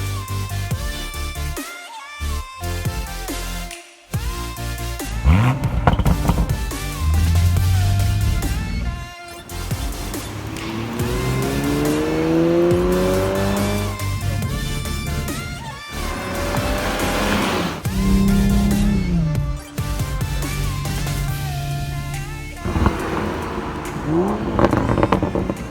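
A Toyota Supra Launch Edition accelerates hard through repeated rising engine pulls and gear shifts, loud and close, with brief tire squeal and a few gaps as the revs drop.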